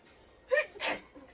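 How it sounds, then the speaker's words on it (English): A single quick sneeze, close and moderately loud, a sharp intake followed by the burst, in a quiet room. "after I sneeze"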